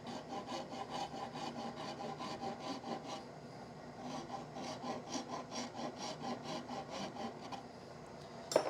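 A wood rasp shapes a cherry yarn bowl in a steady run of rhythmic scraping strokes, close and fairly even in loudness, with a brief pause near the middle and no talking.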